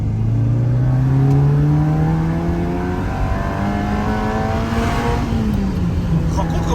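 A Ferrari engine revving loudly up through its range, a steady rising roar with a brief dip near the end, while people talk in French over it.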